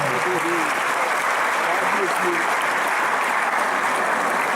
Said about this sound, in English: Should please give a round of applause.